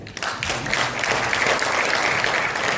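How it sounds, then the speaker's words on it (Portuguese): An audience at a literature event during an African festival applauds, loud sustained clapping from many hands that builds quickly and holds steady for a few seconds. "Mais uma salva de palmas, faz favor."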